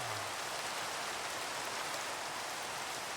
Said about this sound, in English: it has been raining this whole time on this adventure